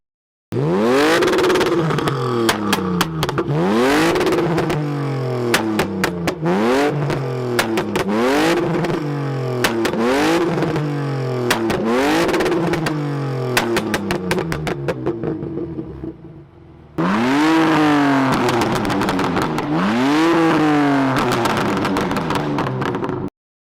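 A BMW engine revs repeatedly in rising and falling surges, loud and close, with sharp crackling pops from the exhaust between revs.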